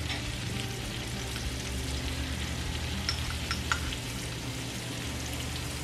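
Onions and garlic frying in a skillet give a steady, close sizzle with a few sharper crackles and pops partway through, and no one speaks.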